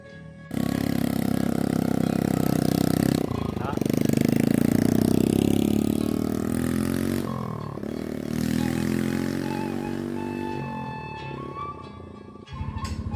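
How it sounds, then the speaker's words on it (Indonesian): A motorcycle engine labors steadily climbing uphill through thick fog in a village, its droning roar holding strong for several seconds with brief dips, sounding fairly close though unseen. "ada motor yang naik, kayak ini ada suaranya aja, motornya nggak kelihatan ya"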